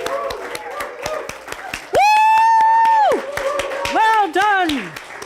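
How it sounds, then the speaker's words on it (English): An audience at a memorial celebration of life claps steadily in a standing ovation, sharp hand claps punctuated by long, loud whooping cheers from nearby voices. "let's just give her a hoot and a holler and clap and"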